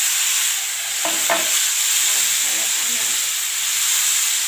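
Nigella seeds frying in a small amount of oil for a pointed gourd and potato fry with poppy seeds, a steady close sizzle and hiss with a couple of brief clinks from stirring, no voices.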